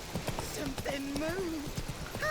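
Clip-clop of the horse Roach's hooves in The Witcher 3, a steady trotting patter with game music tones and a voice speaking over it.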